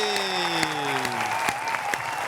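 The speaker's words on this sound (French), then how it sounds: "On applaudit." Audience applause at a live show, a dense, steady patter of clapping running throughout under a faint musical tone, with no one speaking over it.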